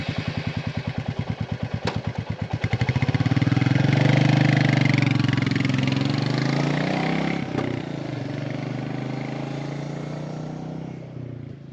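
A Royal Enfield Meteor 350 motorcycle pulls away, its thumping single-cylinder idle rising into a loud, steady engine drone as the rider heads off on the road, with a brief dip in throttle partway through.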